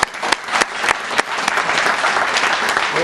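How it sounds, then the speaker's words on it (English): An audience at a 911 call center accreditation ceremony breaks into applause, starting with a few sharp individual claps that quickly swell into loud, sustained clapping from the crowd. "Let's give her a round of applause."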